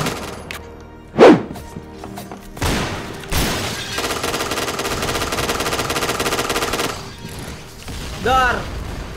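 Point Blank video game gunfire crackles in rapid automatic bursts and single shots, with a long sustained volley in the middle, mixed with players chatting.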